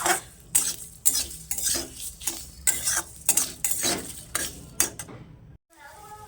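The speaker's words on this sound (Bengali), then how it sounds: "এনে আমি কিছুটা তেল দিয়ে একটু কাঁচা বাদাম ভেজে নিচ্ছি" Raw peanuts fried in a little oil are stirred briskly in a pan, a run of loud rhythmic scrapes and rattles over a light sizzle, stopping abruptly near the end.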